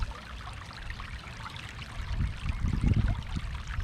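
Water rushes through a gold mining sluice outdoors, a close, continuous gurgling flow that grows louder and heavier after a couple of seconds as material is fed in, with no voices.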